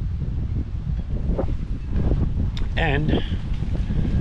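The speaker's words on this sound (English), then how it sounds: "sorry for the wind, it is a little windy" Steady wind buffets the microphone with a low rumbling roar on a homestead at harvest time, while a person speaks briefly over it outdoors.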